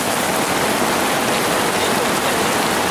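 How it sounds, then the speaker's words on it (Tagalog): Heavy monsoon rain pours down during flooding in Valenzuela, a dense, steady hiss of drops hitting water and surfaces, loud and unbroken with no voices. "Lakas pa ng ulan."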